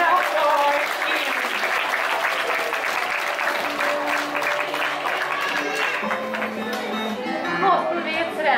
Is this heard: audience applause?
yes